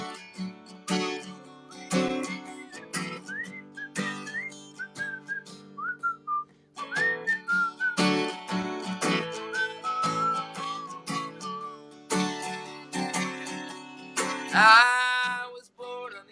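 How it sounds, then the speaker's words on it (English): A person whistles a song melody in bright, gliding phrases over steady musical accompaniment, with short pauses between lines and a rising flourish near the end. "This is the whistle part. Whistle with me."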